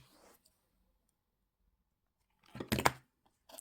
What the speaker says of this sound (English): I'm going to cut the short end off